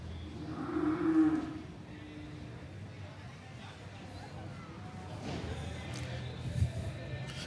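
A Longhorn steer lows loudly in a show ring at an open and youth Longhorn cattle show, a deep drawn-out moo near the start followed by a second rumbling call later, with faint crowd murmur around.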